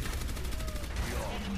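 Orisa's rapid gunfire in Overwatch rattles continuously and densely across a brief burst of game combat, with a voice mixed in.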